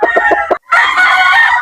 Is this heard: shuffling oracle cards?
no